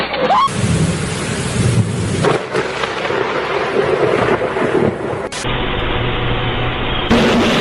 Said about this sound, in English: The terrifying sight of the lightning strike, accompanied by the deafening sound,